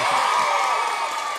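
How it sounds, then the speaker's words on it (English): A children's audience at a book prize event lets out a brief, loud burst of high-pitched cheering and shouting that fills the room. "Give a big cheer for all the activities."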